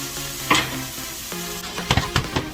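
Tomatoes added to a pan of garlic and mushrooms on medium heat, a soft steady sizzle broken by several sharp stirring scrapes and clatters near the end.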